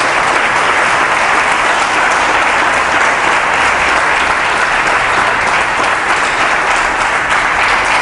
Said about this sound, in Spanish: Los aplaudimos también a ellos por la labor que están haciendo.